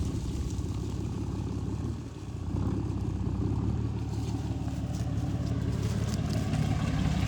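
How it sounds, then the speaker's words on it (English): A big truck rumbles past on a street corner, its engine a loud, steady low roar that dips briefly and then swells again as it accelerates. "you gotta fly through here, hit the gas in this big ass truck"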